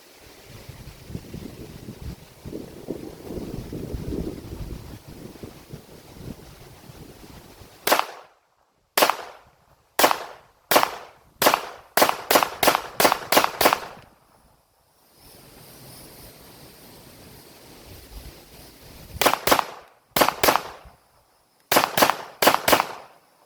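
A Canik 9mm pistol is fired at a range. About eighteen sharp, loud reports come in quick bursts and short strings, each separated by brief silence, after a quiet rustling start.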